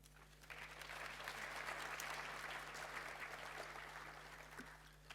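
Faint applause from an audience after a speech at a youth science and innovation event, steady clapping that swells and then tapers, heard over a low electrical hum.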